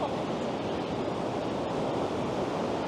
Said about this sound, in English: Yeah, that's a heck of a surf